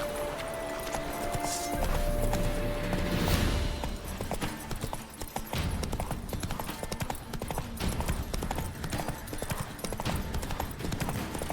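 Roach, the horse in The Witcher 3, gallops with a fast, steady clip-clop of hooves, close and continuous over game ambience, with a brief swell of background noise early on.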